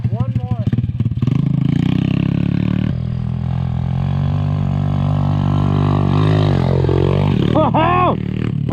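A mini bike engine revs hard and roars during a ditch jump on rough ground, rising and falling in pitch with clattering at the start and people talking and shouting over it nearby.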